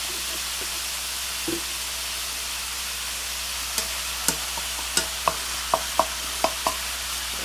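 Ground lamb fries in a pan with fresh garlic, a steady soft sizzle with a run of sharp scraping stir strokes about every half second in the second half, close and fairly quiet, with no talk.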